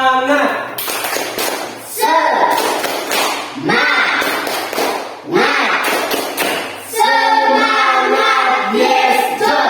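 An Indonesian school class does rhythmic spirit clapping together, crisp group claps in patterned bursts mixed with children and a teacher chanting and talking throughout.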